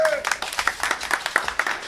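Brief scattered clapping from a small audience at the opening of a drawing exhibition in Gunungkidul, with distinct individual claps in an uneven rhythm and a voice briefly heard at the start.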